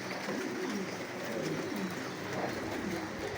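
Pigeons eating grain coo softly and repeatedly in low murmurs, at a moderate distance over a steady background hiss.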